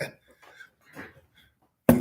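A single sharp cough bursts out at the very end, loud and close, following a stretch of faint, quiet murmuring.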